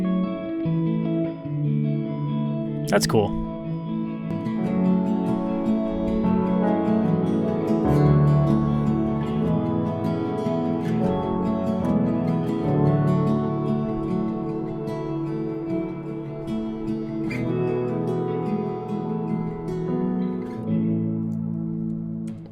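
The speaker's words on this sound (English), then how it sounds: "I want these to kind of be a little more drowned in reverb" Electric guitar chords for an indie folk track ring out steadily, washed in heavy reverb with a long echoing tail; a brief voice comments once near the start.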